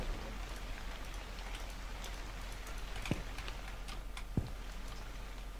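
Continuous rain pattering on surfaces in a haunted convenience store video game (Yakin Jiken), with scattered droplet ticks and two sharp louder taps breaking through the steady wash, no talking.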